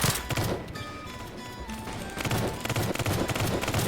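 Guns firing in the Roblox Squid Game mode, a rapid burst of shots at the start and then more scattered volleys, loud and close, with game sounds mixed in behind.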